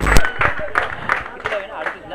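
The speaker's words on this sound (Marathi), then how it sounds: "जानाई वाघापूर संघ बॅटिंग आवडली असेल तर जोरदार टाळ्या होऊ द्या" Rapid clapping from a crowd at a local cricket semi-final, heard as quick rhythmic bursts of applause that swell and fade over a couple of seconds, with babble mixed in.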